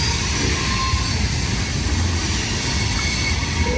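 A CSX freight train creeps along slowly with its brakes held, a dense continuous rumble and rolling clatter with a faint thin squeal, loud and steady throughout with no talk.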